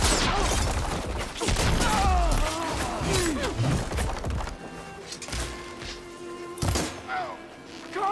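Loud, close bursts of machine gun fire in Horizon Forbidden West: Burning Shores, heaviest at first and then in separate bursts, with shouting voices and battle clatter mixed in.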